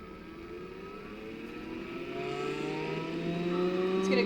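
A laboratory microcentrifuge spins up toward 12,000 RPM, its faint whirring tone sweeping steadily upward in pitch and growing slightly louder as it gains speed.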